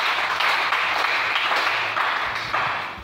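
A church congregation claps and applauds to acclaim the Lord, a dense, steady wash of many hands sustained for the whole stretch without pause.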